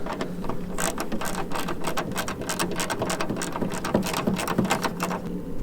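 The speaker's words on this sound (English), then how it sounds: "Once they're in, we can reinsert our 8mm screws." 8mm screws on a Jeep Gladiator tail light are driven back in with a rapid, continuous ratcheting click, close up and steady throughout.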